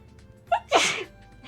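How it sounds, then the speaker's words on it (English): A character in Trails of Cold Steel III sneezes once, a short sharp intake followed by a loud burst, close and clear against a quiet background. "I'm gonna sneeze."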